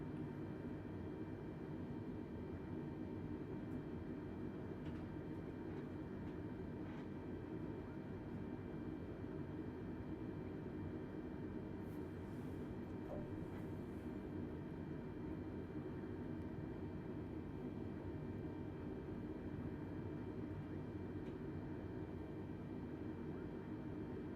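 A Delta airliner taxis in a flight simulator, a steady low engine hum and whine droning continuously at moderate level, with faint tones drifting over it.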